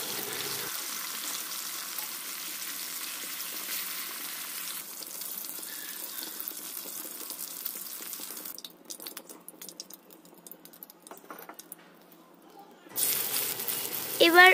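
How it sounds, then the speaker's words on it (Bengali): Rohu fish pieces frying in hot oil in a home kitchen, a steady soft sizzle running throughout with a brief busier rattle of handling near the end, fairly quiet and with no talk. "এবার মাছগুলোকে খুব ভালো মতো ভেজে বাটিতে তুলে নেব।"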